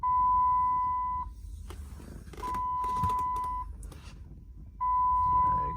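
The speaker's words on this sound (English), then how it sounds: "There it goes, making some beeping sounds again." A DiabloSport Trinity T2 tuner gives three long, steady electronic beep tones while a tune installs, each sounding for about a second with brief gaps of low rumble and quiet background noise in between.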